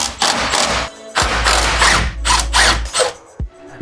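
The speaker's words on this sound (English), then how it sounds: "And then you use a T45 socket to undo these two bolts." A T45 socket on a ratchet undoes the brake caliper bolts on a Mk1 Ford Focus, giving several bursts of close, loud mechanical whirring and clicking separated by brief pauses, with no talk.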